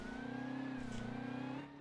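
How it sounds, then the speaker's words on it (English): A racing car engine drones steadily at a distance during the 1935 Targa Florio, its pitch holding nearly level before easing off at the end. "sounds like another car."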